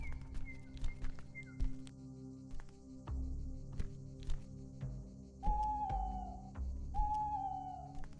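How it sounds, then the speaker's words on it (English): An owl hoots twice in the Dawn of the Mexica video game, soft tonal calls set within a low ambient soundscape with scattered clicks and light game effects. "That owl is spook."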